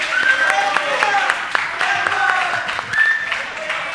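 Scattered audience clapping at an ENEM exam-prep review class, with distinct individual claps over a bed of crowd murmur and voices, moderately loud and uneven throughout.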